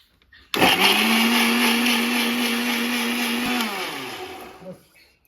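An electric mixer grinder whirs up a cucumber mixture, starting abruptly, running loud and steady for about four seconds, then winding down to a stop.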